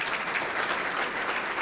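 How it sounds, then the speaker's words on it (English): Round of applause from a business appreciation breakfast audience, continuous dense clapping filling the room at an even level throughout. "Another round of applause."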